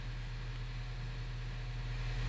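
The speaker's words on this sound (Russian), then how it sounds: "Сейчас мы поставили сюда новые форсунки, двигатель шепчет." Honda Vezel GDI petrol engine idling smoothly and quietly after new fuel injectors were fitted, a steady low hum with constant level and no talk.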